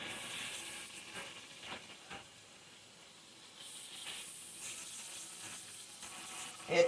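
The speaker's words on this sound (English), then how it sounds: "Just stir it in there." Flour is stirred into a softly sizzling pan while making shepherd's pie, giving a low, steady frying hiss with faint scrapes. A brief louder clatter comes near the end.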